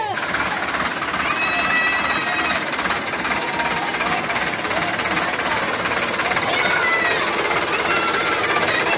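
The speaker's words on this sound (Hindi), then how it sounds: "वो अभी अपना ट्रैक्टर लेके जाएगा।" Farm tractor engine running nearby, a loud continuous rattling chug with knocking texture, with people and children's voices around it at a village temple setting.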